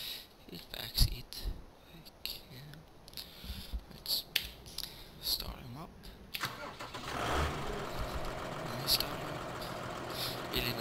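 A New Holland T7 210 tractor engine in Farming Simulator 2013 cranks with clicks and whirs, then catches and settles into a steady mid-pitched idle, heard close, while a person talks quietly over it.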